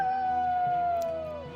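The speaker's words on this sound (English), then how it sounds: "Oh, we can use Sinister Howl twice." A single long, drawn-out wolf howl from the Sinister Howl spell in the video game Eador Genesis, loud and clear, gliding slowly downward in pitch over about a second and a half.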